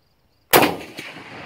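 A 1903 sporter rifle fires a single sharp, loud shot at a target after a moment of silence, followed by a rolling echo and a faint later crack.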